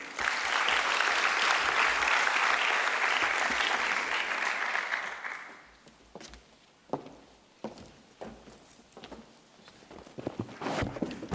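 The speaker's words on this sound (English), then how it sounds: "Give them a round of applause." Applause from a symposium audience fills the first five seconds, loud and dense, then breaks into scattered lingering claps and shuffling as the room settles.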